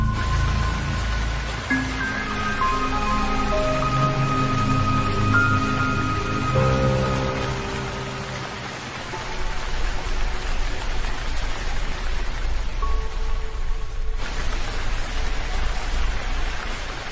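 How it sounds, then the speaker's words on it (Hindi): Heavy rain falls as a steady, dense hiss throughout, with gentle melodic background music layered over it. "बारिश रुकने का नाम ही नहीं ले रही है"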